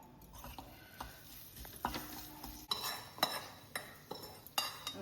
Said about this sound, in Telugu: కొంచెం నూనె వేసుకొని ఇంగువ వేసుకొని కరివేపాకు కూడా వేస్తున్నానండి.